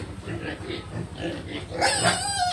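A pig grunts and oinks repeatedly at close range while being dewormed with ivermectin, low snorts running throughout, ending in a louder squeal, with no talk over it.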